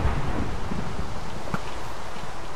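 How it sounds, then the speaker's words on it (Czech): Rain hisses steadily in Minecraft with a low rumble of thunder rolling underneath, broken by a few soft thuds; the storm sound is continuous and moderately loud with no talking. "Prosím, ať přestane pršet."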